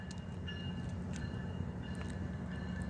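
Mark 871 and CSX K630 locomotives approach on the rail line, a steady low rumble and rolling clatter that holds constant, with faint higher squeals riding above the drone.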